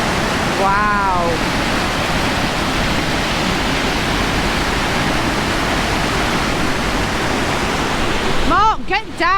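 Water pours over a massive weir in a loud, steady roar that fills the whole clip, close by and unbroken. Brief voices are heard under it near the start and end.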